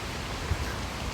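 Steady rain falls in the woods during a spring hike, making a soft, even hiss with no talking.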